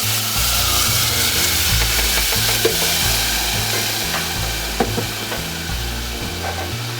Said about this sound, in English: add your tomatoes really quick